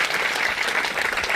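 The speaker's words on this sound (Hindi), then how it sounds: "एक बार फिर से जोर से तालियां सारे भूतपूर्व सैनिकों" Audience applause for former soldiers at a Kargil Vijay Diwas commemoration, a brief, dense burst of many hands clapping at once, loud and continuous.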